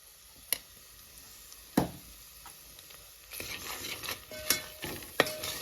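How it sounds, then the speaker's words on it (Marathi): Malvani masala roasts gently in a pan over a slow flame for a spicy crab curry, mostly quiet with a faint sizzle, punctuated by scattered scraping stirs and a few sharp utensil taps that grow busier toward the end. "तर तो भाजून घेऊया जरासा"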